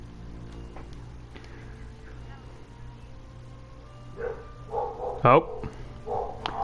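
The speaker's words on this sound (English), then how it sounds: "Well, the dogs are barking, so I guess that does mean things are working fine." Dogs barking indoors, a few short yips and barks rising near the end over a quiet hum, with a brief spoken exclamation.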